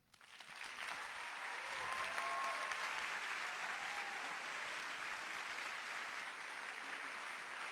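An audience at a conference breaks into sustained applause, a dense wash of clapping that swells quickly and holds steady for several seconds at moderate distance.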